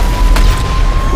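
Explosion at a plane crash site in GTA 5, a loud, heavy boom with a sharp burst over a deep, rumbling low roar.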